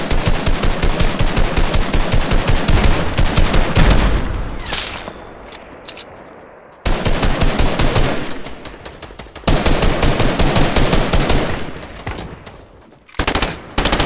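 Rapid automatic gunfire in the video game Fortnite rattles in long loud bursts, broken by short pauses and quieter stretches, close and dominant with no talk.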